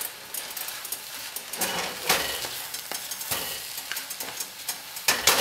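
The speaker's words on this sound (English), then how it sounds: "So I'm just gonna stir it in." Risotto rice is stirred in a hot pan, scraping and shuffling in uneven strokes over a faint sizzle, close and moderately quiet, with no one talking.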